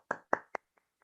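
A handful of sharp claps ring out close by, three strong ones in quick succession followed by two faint stragglers, during a thank-you at an entrepreneur meet in Lucknow.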